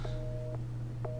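Inside the game Resident Evil 7, a telephone gives a faint electronic ring: two short repeated tone pulses over a low steady hum, fairly quiet and alone.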